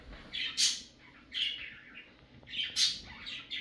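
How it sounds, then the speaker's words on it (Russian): Parrot in a home kitchen chirping and squawking in three shrill, bright bursts spaced about a second apart, fairly close and loud, with no talk over it. "Вау! Попугай"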